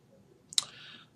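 A single sharp computer mouse click, close and crisp, stands alone against a quiet background, followed by a faint short ringing tail.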